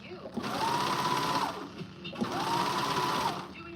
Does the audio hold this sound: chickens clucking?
no